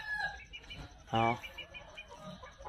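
Scattered clucks and chirps from young gamefowl hens, with one sharp, louder squawk midway and quieter bird calls around it.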